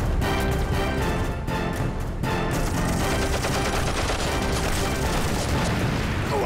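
Gunfire in a movie action scene comes as dense, continuous bursts, loud and close. Rapid shots run together like a sustained fusillade for several seconds.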